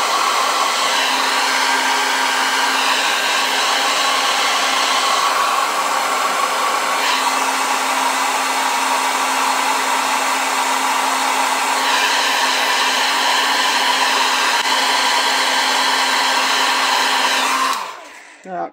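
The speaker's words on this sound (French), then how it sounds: "Et si je sèche avec mon sèche-cheveux," A handheld hair dryer blows steadily and loudly for about eighteen seconds, drying a craft project, with a continuous whirring hum that cuts off abruptly at the end.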